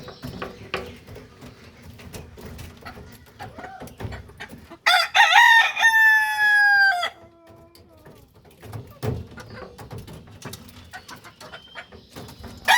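A rooster crows loudly once, near and clear, amid a yard of chickens softly clucking and pecking at feed, with scattered quiet movement noises around.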